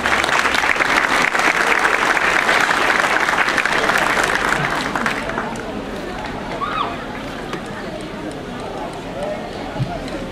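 Loud audience applause greets a speaker at a community event in San Julián, dense clapping for about five seconds before fading to a quieter murmur of scattered claps and voices.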